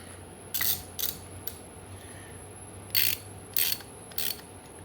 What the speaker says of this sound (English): Slowly tighten this, snug these up.